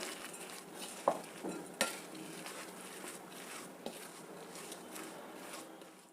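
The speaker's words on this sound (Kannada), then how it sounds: "ಇವಾಗ ಇದನ್ನೆಲ್ಲ ನೀಟಾಗಿ ಮಿಕ್ಸ್ ಮಾಡೋಣ" Avarekalu (hyacinth bean) snack batter being mixed with salt in a bowl, soft wet stirring with a couple of sharp utensil clinks against the vessel early on.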